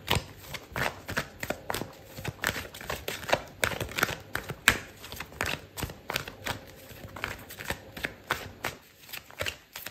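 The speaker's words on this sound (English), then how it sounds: "I'm going to pull out another card for you." Tarot cards being shuffled and drawn, a long run of quick crisp riffling snaps and slides, close and steady throughout, with no speech.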